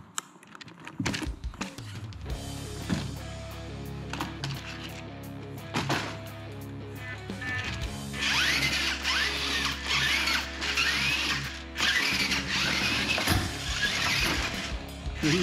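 A Grave Digger RC monster truck's electric motor whirs and whines in bursts, revving louder from about eight seconds on, with clicks and mechanical rattles close by.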